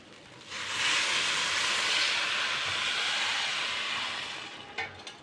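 Water poured into a hot kadai holding fried potatoes and meat bursts into a loud, broad hiss of steam that holds steady for several seconds, then fades with a few faint clinks.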